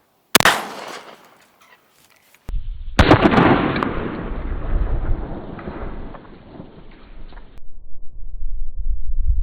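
A 12 gauge shotgun fired at a bulletproof Humvee windshield: a loud, sharp blast at close range followed by a second heavy boom with a long rumbling decay and lingering outdoor noise.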